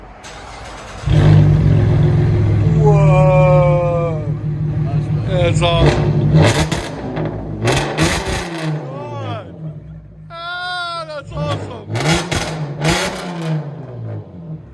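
2011 Cadillac CTS4 with a 3.6-liter V6 and straight-pipe dual exhaust, a loud idle rumble followed by several sharp revs, with excited voices reacting between the blips.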